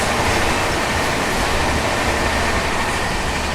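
The 02564 New Delhi–Barauni Clone Special passenger train rolls along on the Delhi to Muzaffarpur route, giving a continuous, loud, close rumble of wheels and rattling carriages with no break.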